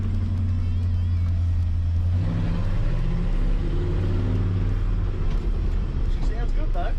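A deep, loud International C1600 truck's 345 V8 engine rumbles steadily from inside the moving vintage truck, pitch rising slowly as it revs, with someone talking over it.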